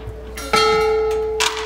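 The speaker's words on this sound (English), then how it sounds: "the bell tolls for their time in elementary school. One by one, they pull the clapper and say so long" A school bell is struck as its clapper is pulled by hand, giving one bright clang that rings on with a long sustain, then a second fainter strike near the end.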